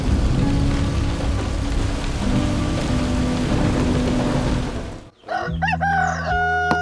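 Steady rain patters loudly and evenly outside at night in a remote forest village, then briefly cuts out before a rooster crows close by.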